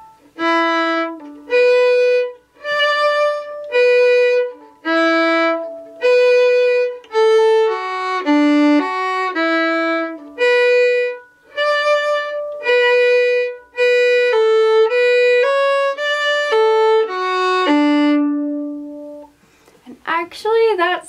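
Fiddle playing the A part melody of the Irish reel Drowsy Maggie, a steady run of clear bowed notes with short phrase breaks, close and loud, with a brief noisy burst at the very end.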